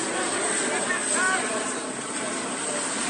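A helicopter circling overhead at a 2016 Democratic National Convention rally in Philadelphia, heard as a steady, broad, rushing rotor drone with no breaks.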